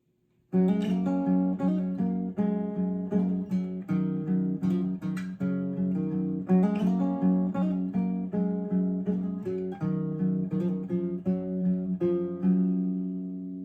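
An acoustic guitar plays the intro of a song at normal tempo, with clear, evenly picked notes ringing close and alone after a brief silent start.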